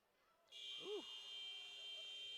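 A steady electronic buzzer sounds in a high school varsity wrestling gym to end the first period, a sustained loud tone that starts abruptly and holds, with a brief voice underneath.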